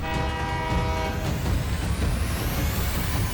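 An animated train comes down the track, its horn blaring loudly at first and then giving way to a steady rumbling clatter of wheels on rails, close and continuous with no speech.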